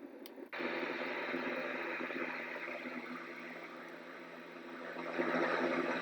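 A sound machine on its fan setting gives off a steady whooshing hum like a running electric fan, switching on after a short pause and holding at a constant, moderate level.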